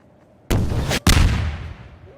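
Explosions from a hectic online video game: two loud, close blasts in quick succession, each a broad roaring burst, the second trailing off into a fading rumble.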